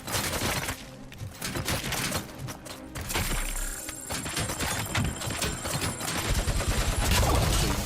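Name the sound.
heavy machine gun fire in video game RoboCop: Rogue City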